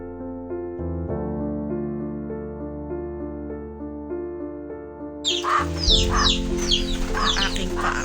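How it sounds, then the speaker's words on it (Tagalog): Chickens and chicks at Lolo Abay's place in Sitio iLas cluck softly over a steady low hum, then a burst of higher peeping and clucking from chicks and hens rises in the last few seconds, fairly close. "Yung mga sisiw ni Lolo Abay. Manok."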